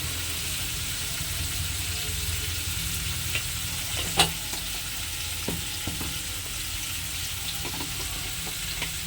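Chopped tomato with salt frying in a pan over a low gas flame for a vegetarian bread cutlet, giving a steady close sizzle with occasional stirring clinks and scrapes, no voices.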